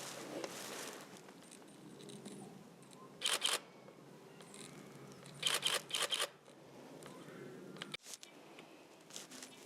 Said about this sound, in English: this camera doesn't have silent shutter, so I'm going to see how loud that is